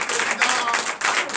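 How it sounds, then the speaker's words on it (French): A church congregation at a Sunday service in Benin applauds loudly, a short dense wash of many hands clapping with crowd noise, steady throughout. "Je vous demande d'applaudir encore très fort."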